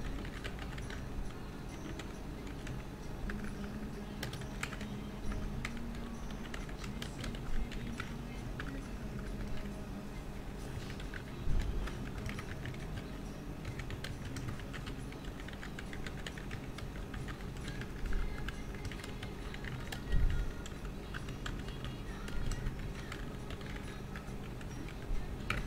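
Typing on a computer keyboard at a desk: soft, irregular key clicks continue throughout at low level, with occasional louder taps and no voice.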